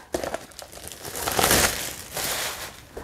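Plastic packaging bags from an unpacked parcel being torn open and crinkled, with loud close-up rustling bursts that build to a dense peak midway and continue in rough waves.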